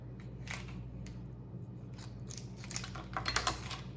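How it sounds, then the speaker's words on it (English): A boiled lobster tail shell being cut with scissors, giving a run of small dry crunching snips, close and quiet, growing denser and louder toward the end. "To display it, you can cut your shell all the way."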